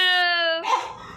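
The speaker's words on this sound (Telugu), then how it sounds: "మా కుక్క పిల్ల అనమాట" A pet puppy in a house lets out a high, sustained whine, then breaks into a short, rough bark, all close and fairly loud.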